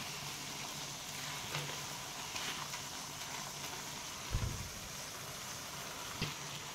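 Carrot halwa with milk and cardamom powder stirred in a pan, a soft steady simmering sizzle throughout with occasional faint scrapes and knocks of the spoon against the pan.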